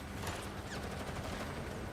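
Gunfire from the ground in a mobile game battle event, a dense, continuous crackle of rapid shots and explosions layered under a steady roar, loud and unbroken throughout.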